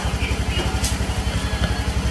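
A motorcycle engine idles close by, its steady low pulsing throb running unbroken and fairly loud, with a brief faint rattle partway through.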